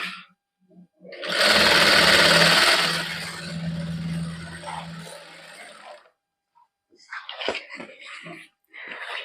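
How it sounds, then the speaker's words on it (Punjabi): A sewing machine stitches along the edge of an embroidered salwar cuff backed with buckram: a loud, steady run of about five seconds, followed by quieter fabric handling and light clicks. "ਪਹਿਲਾਂ ਸਲਾਈ ਆਪਾਂ ਇਹਦੇ ਨਾਲ ਨਾਲ ਮਾਰਾਂਗੇ ਉੱਪਰ ਕੰਨੀ ਕੰਨੀ ਤੇ"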